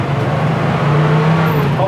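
A 1968 Ford Bronco with a 289 V8 hums along at driving speed, a steady near engine drone with road noise throughout the short stretch.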